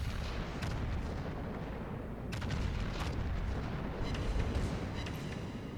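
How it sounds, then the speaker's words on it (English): Main guns of the Grosser Kurfurst battleship in World of Warships, heavy booming shots over a dense rumbling battle background, several distinct blasts spread through the stretch. "I even managed to hit him with the main armament there"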